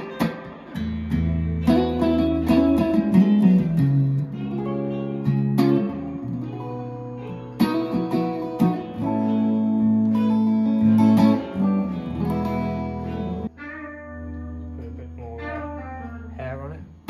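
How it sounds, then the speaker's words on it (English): An electric guitar plays through an amp in a guitar store, with the reverb set at around 7: sustained chords and ringing single notes carry a washy tail, steady and fairly loud, with no voices. "Reverb at around 7."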